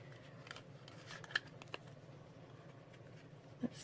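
Scissors trimming paper for a handmade mini notebook, a few quiet crisp snips and paper rustles close by, no talk.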